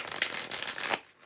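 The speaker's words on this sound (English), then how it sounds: "it overhand shuffles really nicely" Overhand shuffling of a thick-cardstock tarot deck, a quick run of soft papery riffling and slapping close up, fading to quiet at the end.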